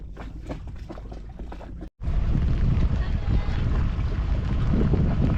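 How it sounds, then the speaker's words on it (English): A sailboat under way past Active Pass toward Winter Harbor in the San Juan Islands, with a steady roar of wind and rushing water. A brief dropout splits the clip, then the louder, constant wash continues, with no talk. "we're off to Winter Harbor. We're just sailing past Active Pass now."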